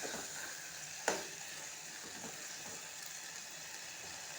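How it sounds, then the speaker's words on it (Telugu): Capsicum curry frying in a pan gives a steady soft sizzle throughout, with one sharp utensil scrape or clink near the start and faint stirring scrapes after it. "ఇలా మధ్య మధ్యలో ఇలా కలుపుతూ ఉండాలన్నమాట ఎందుకంటే అడగంటుంది కాబట్టి ఇలా కలుపుకుంటూ ఉండాలి"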